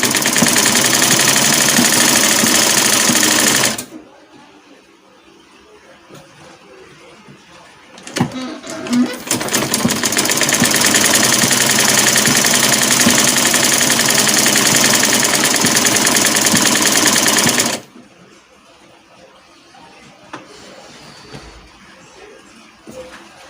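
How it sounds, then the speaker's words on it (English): A sewing machine stitching a straight seam on a dress, a loud steady whirring run that stops, restarts after a brief fumble, and runs again before cutting off. "I'll just sew it straight."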